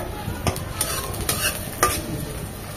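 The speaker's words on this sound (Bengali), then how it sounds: "এখন এই পেঁয়াজ রসুনটাকে ভাজা ভাজা করবো" Chopped onion and garlic fry in a pan for a dried-fish and Malabar spinach dish, giving a steady close-up sizzle broken by scraping stirs of a utensil.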